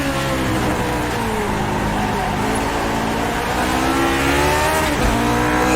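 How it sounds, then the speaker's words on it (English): A Lotus 49 race car in iRacing drifting on all four wheels out of a corner at Okayama, its engine droning loud and steady with a rising pitch that dips and climbs again near the end, with a faint voice underneath. "A little four-wheel drift there out of the corner."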